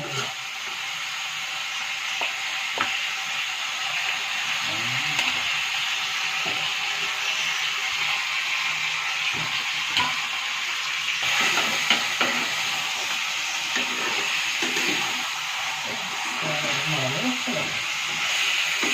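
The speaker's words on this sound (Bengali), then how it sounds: "লেগ পিসটা এই মশলাটাতে দিয়ে দিয়ে কষাতে হবে নাকি?" Chicken leg pieces fry in a spiced masala in a pan, giving a continuous moderate sizzle with scraping stirring noises scattered throughout.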